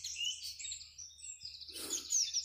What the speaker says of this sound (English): now the warblers are getting involved, the chiff-chaffs